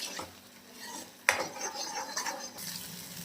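A spoon stirs gravy bubbling in oil inside a wok, giving soft scraping and swishing with one sharp metallic clink partway through, close and fairly quiet.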